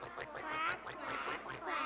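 A group of people at a Lutheran church service imitate duck quacks together, a dense, continuous chorus of overlapping nasal quacking voices at steady loudness.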